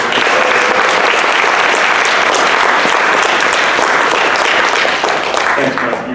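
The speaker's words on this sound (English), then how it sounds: "Let's give Mike Cashman a round of applause" A crowd at the Powering the North Country evening gives a sustained round of applause for Mike Cashman, dense steady clapping that stays loud throughout with a few voices mixed in.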